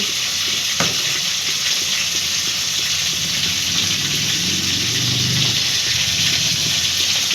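Prawns seasoned with turmeric and salt frying in hot oil alongside potatoes, a loud, continuous hissing sizzle that holds steady throughout, heard up close with occasional faint stirring knocks.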